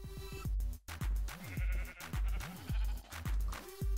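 Sheep in the Minecraft video game bleating repeatedly: a run of clear, close, wavering bleats with brief gaps between them.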